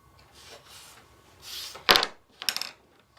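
A small tool cutting a strip of sugar paste for cupcake decoration, soft scraping strokes followed by a sharp tap and a brief clattering scrape, close up and with no one talking.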